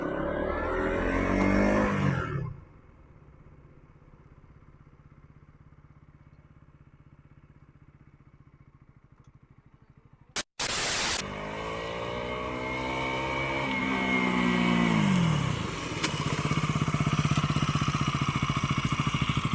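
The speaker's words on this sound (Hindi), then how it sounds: "आपने देखा हमने रोड मोड से बाइक को चलाया" A KTM Duke 200 BS6 motorcycle ridden in road mode: engine roar fades briefly after a couple of seconds, then returns loud and close with rising and falling revs, steady and continuous with no talk.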